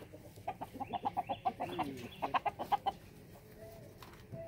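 A rooster clucks in a fast rhythmic series of about a dozen sharp, fairly close calls, then a short pause and a few more, while people try to catch it, against faint background noise.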